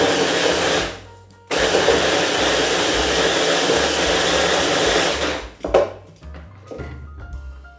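An electric blender whirs loudly as it crushes biscuits for a banoffee pie base, running in a short burst, pausing briefly, then grinding steadily for several seconds before stopping with rattling clatter.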